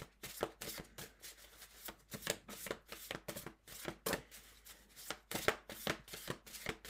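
Tarot cards being shuffled by hand, a close, soft series of rapid riffling bursts with brief gaps, repeating steadily with no talk.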